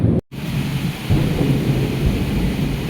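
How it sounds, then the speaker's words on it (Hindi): Heavy monsoon-style rain pours down with deep thunder rumbling underneath, a loud, dense, continuous downpour after a brief cut at the start, no voices. "अभी बहुत ख़तरनाक वाली बारिश हो रही है, बहुत ख़तरनाक वाली"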